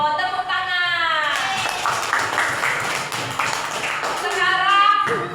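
A primary school class breaks into a few seconds of dense, steady clapping during a coding lesson, with children's and a teacher's voices heard just before and after the applause.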